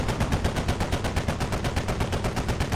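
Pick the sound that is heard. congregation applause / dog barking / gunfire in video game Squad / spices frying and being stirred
gunfire in video game Squad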